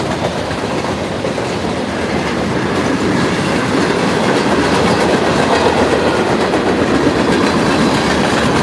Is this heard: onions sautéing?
no